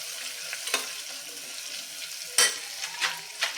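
Small chopped carrot pieces stirred in a hot pan sizzle steadily, with several sharp scraping spoon strokes standing out close up.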